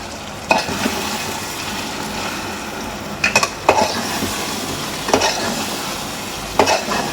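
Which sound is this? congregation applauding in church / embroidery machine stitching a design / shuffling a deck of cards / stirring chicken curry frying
stirring chicken curry frying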